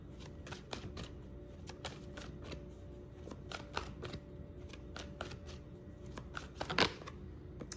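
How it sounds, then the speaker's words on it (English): A large deck of tarot cards is shuffled by hand, giving rapid, irregular riffling and slapping clicks close up, steady and quiet, with no talk. "This deck is so big, it's so hard to shuffle."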